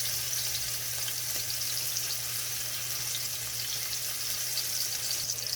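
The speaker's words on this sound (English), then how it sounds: "I'm just going to remove my sausages from my frying pan" Continuous crackling sizzle of sausages frying in a hot pan, a steady hiss with small pops, close by and without talk.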